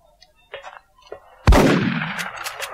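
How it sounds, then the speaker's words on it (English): A loud shotgun blast in the video game XCOM hits hard at about 1.5 seconds and rings out with a long, dense decay. It follows a few soft interface clicks and quiet game sounds, with no talking. "Shotgun."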